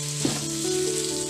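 Chicken frying in a pan for biryani while being stirred until brown, with a steady close sizzle and a brief scrape of the spoon near the start.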